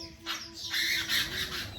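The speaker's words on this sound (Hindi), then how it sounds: "चिड़िया कितनी शोर करके सुबह उठाती है, और सुबह होते होते बहुत शोर हो जाता है इनका" Morning birds squawk loudly at a riverside spot on the Narmada, harsh overlapping calls close by with no talking.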